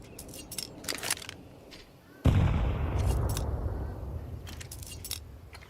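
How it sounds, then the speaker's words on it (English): A grenade goes off in Counter-Strike: a sudden loud blast that rolls into a long decaying rumble, preceded by scattered clicks and faint gunfire, with a caster talking lightly underneath. "Decent nade damage."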